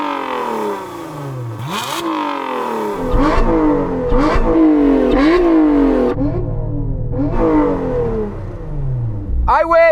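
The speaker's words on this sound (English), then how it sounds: "Let's have a listen to your supercharged V6." A supercharged V6 car engine revs repeatedly in sharp rising bursts, loud and close, with people talking over it and a brief high squeal at the end.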